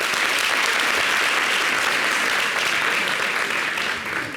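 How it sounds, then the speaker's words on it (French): Studio audience applause for Patricia on a local French TV show, a dense, steady wash of clapping that holds loud and unbroken for about four seconds before easing slightly at the end. "Applaudissez pour Patricia."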